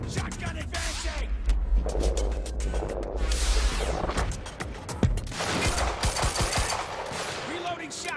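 Rapid gunfire and shotgun blasts in the Quantum Break video game, dense bursts of loud shots with sharp single cracks mixed in, under shouted combat voices.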